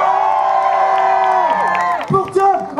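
A town festival audience in Yerres cheers and shouts for the band's bassist, a loud mass of voices and whoops with some clapping, overlapped by a spoken voice and a sustained tone before a brief dip.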